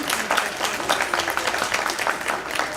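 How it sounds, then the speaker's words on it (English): Audience applause at a school board meeting, a dense steady patter of many hands clapping throughout, moderately loud and close, with no talk over it. "they deserve a round of applause"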